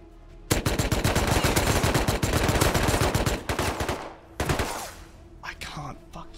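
Rapid automatic AK rifle fire in a video game, loud close bursts of continuous shots for several seconds, then a pause and a few shorter trailing volleys.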